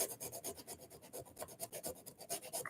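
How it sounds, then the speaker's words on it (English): Fast rhythmic rasping of sandpaper scraping back and forth on a hard plastic ridge of a knife, quiet and close, with no voices. "So all I'm doing is just sanding down that little ridge at the very back"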